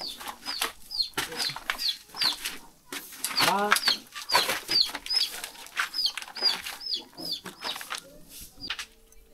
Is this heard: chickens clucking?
yes